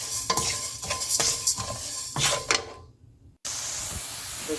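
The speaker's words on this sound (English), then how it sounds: "Washed it nicely and I am roasting it now." Whole black gram with its skin rattles and scrapes in a dry pan as it is stirred and roasted, in close repeated bursts with a soft sizzling hiss, then a short silence and a steady hiss.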